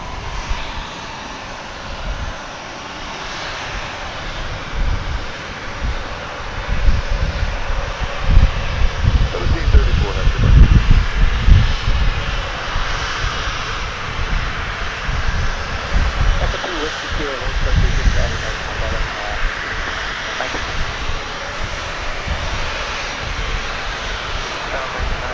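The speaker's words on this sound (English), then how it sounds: "This plane is Flight 1304. It's going to Los Cabos in Mexico." An American Airlines jet airliner's engines roar on the south end of runway 36 right at DFW Airport, a steady broad rumble that swells louder toward the middle and then stays heavy and constant.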